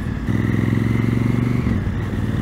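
Motorcycle leaning through a curve as the rider sets speed beforehand and shifts into a dynamic cornering posture; a steady, close engine drone swells, holds, then eases off as the bike rolls through the bend.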